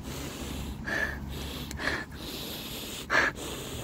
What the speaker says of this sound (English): Flowers are beautiful and they need to be sniffed.